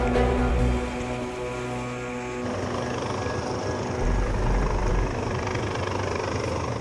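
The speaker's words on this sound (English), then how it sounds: "20 minutes after the call, the helicopter arrives." A rescue helicopter arriving over the sea near rocks, its rotor chopping and turbine whining loud and close, then the rotor wash turning into a broad rushing roar as it gets nearer.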